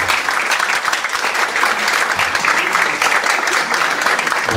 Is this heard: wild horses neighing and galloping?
no